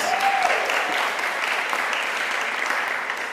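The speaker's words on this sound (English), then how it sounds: "I think that deserves a round of applause" A school audience at a United Nations Day assembly at Glenmuir High School breaks into sustained applause, a dense steady clapping that holds loud and fairly even throughout, with a brief voice briefly audible at the start.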